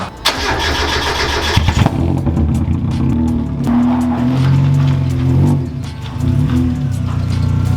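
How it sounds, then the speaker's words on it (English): A Mazda MX-5 Miata with an unfinished exhaust cranks briefly, then fires up and settles into a loud, rough, raspy idle with a few blips of revving, close by, with no talking. "how stupid does this car sound right now?"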